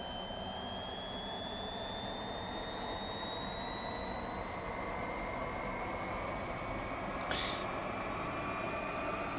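A jet engine spools up in the DCS World flight simulator, a steady rising whine over a broad, continuous roar, heard alone at a constant moderate level.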